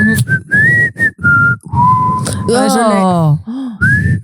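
Someone whistles a melodic tune close by, bright sustained notes with rising and falling slides, broken by short pauses, ending in a quick run of wavering trills.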